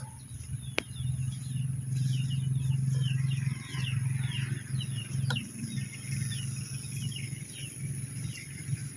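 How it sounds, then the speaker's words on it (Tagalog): Many birds chirp and tweet across a countryside farm in the province, a steady scatter of small calls at mid distance over a constant low hum and a faint high electrical whine, with a sharp click now and then. "Oh, daming ibon doon."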